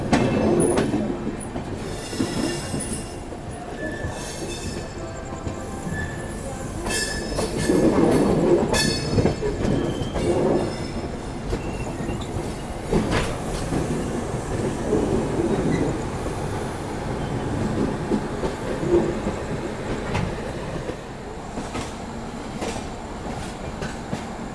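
The 20504 Dibrugarh Rajdhani Express rolls along on a journey in 2AC, with a steady onboard rumble of wheels on rail, rhythmic clickety-clack, and occasional high wheel squeal throughout.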